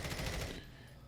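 A rapid burst of automatic gunfire from a converted M16 rifle, fired at a distance, fairly faint and dense for about half a second before it drops away into the echo.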